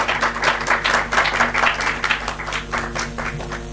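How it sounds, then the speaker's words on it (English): Audience applause at a classical Indian music festival, a steady burst of many hands clapping throughout, fairly loud and close, with a faint sustained tonal drone beneath. "can we please have a round of applause for these young, talented students of Shri Partho Sarathi Lenka?"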